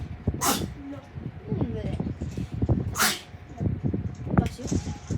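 Sudden sneezes burst out twice over a round of Fortnite battle royale played at home, the first loud and near, with people chatting throughout and a third sharp sneeze-like burst near the end.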